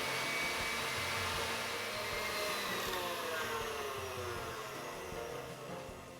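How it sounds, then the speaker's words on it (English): An electric mixer beats four egg yolks in a steady, continuous whirring drone that fades slightly toward the end, with no voices. "4 egg yolks, we're gonna beat these for 3 to 5 minutes maybe until they become a nice light yellow."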